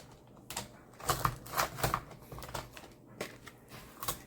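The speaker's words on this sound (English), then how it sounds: "Let me just get my paper trimmer." A paper trimmer slices through sheets of paper for a papercraft journal insert, giving several close, crisp swipes and clicks in a steady rhythm, with short quiet gaps between the cuts.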